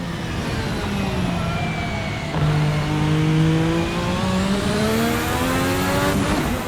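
A 1986 Formula 1 car engine idles and burbles at low revs, its tone rising and falling steadily and loud throughout, with a brief higher whine near the end.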